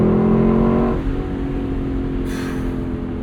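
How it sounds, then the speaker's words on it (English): A 2025 Lexus LC 500 convertible's V8 engine bounces off the rev limiter, a loud, close, sustained high-revving roar that drops to a lower steady drone about a second in, with no talking. "Bounce it off the rev limiter a couple of times"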